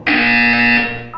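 A single loud, harsh electronic buzzer in Portal 2 drones steadily for about a second, then cuts off, followed by a brief higher blip.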